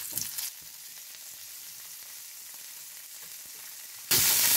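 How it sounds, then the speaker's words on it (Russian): Asparagus fries in oil in a pan with a steady, gentle sizzle close by, opening with a brief burst of crackle and ending in a sudden loud spitting flare. "И теперь обжариваю спаржу."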